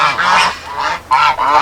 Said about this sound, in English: Have a couple geese.